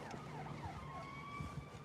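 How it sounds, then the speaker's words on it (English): An ambulance siren passes along a residential street, a faint, distant wailing tone steady over low background rumble, with no voices. "We get ambulances and everything driving past."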